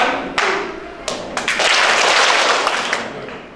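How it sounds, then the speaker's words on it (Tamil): Sharp hand claps ring out over a noisy room, a first isolated clap followed by a couple more and then a longer burst of clapping from a group. "எனக்கு ரெண்டு கிளாப் தான் கேட்கணும்"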